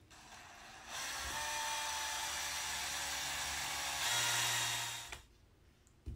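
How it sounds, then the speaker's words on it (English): A power drill drives a screw into an aluminum rod on a hatching grow-out pen, whirring steadily for about four seconds, climbing in pitch briefly near the end, then cutting off abruptly. "take your power drill"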